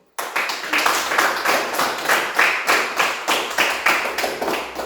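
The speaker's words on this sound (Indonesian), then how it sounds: "Tepuk tangan dulu." A classroom group claps hands together in a steady, rhythmic unison beat, roughly three claps per second, loud and close with no talking.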